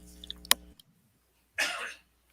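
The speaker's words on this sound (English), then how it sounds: "I had to cough." A single broadband burst from one person, a cough heard near and fairly loud after a stretch of quiet, on a live online talk show.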